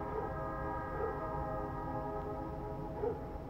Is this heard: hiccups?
no